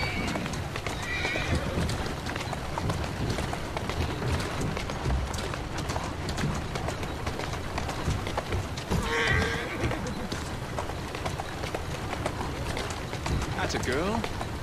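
In the Assassin's Creed Syndicate video game, a horse whinnies twice over steady clip-clopping hooves on a street, with a voice speaking throughout.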